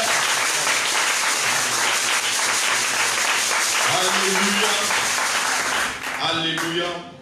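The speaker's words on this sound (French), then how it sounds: "est-ce que tu peux acclamer Jésus très fort pour la vie de notre Père?" A church congregation at a healing seminar bursts into loud, sustained applause with cheering voices, a dense wall of clapping that carries on for several seconds before easing slightly near the end.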